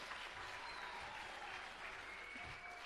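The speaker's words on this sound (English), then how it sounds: "a round of applause to them once again" Symposium attendees at a United Nations World Philosophy Day event clap for competition winners, a soft, distant, even patter of hands sustained throughout, no voices on top.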